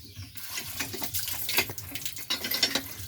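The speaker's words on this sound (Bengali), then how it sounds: "এটা হচ্ছে গ্রামের টিউবওয়েল।" Water gushes and splashes steadily from a hand-pump tube well in a rural Bangladeshi village, close and fairly loud, with uneven surges throughout and no voices.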